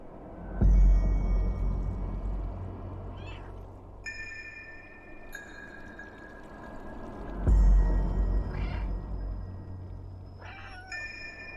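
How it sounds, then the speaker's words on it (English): Several short meows from the cat in the video game Stray sound over a low rumbling ambient game soundtrack with deep booms, spaced out across the passage, with no talk. "In Stray, you play as a cat who has fallen inside the mysterious and forgotten city."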